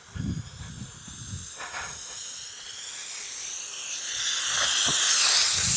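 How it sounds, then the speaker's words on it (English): A pressurized garden sprayer spraying Guano Boost mulch fertiliser over garden beds, a steady hiss that swells louder toward the end after a few low thumps at the start. "Check how much further this one sprays."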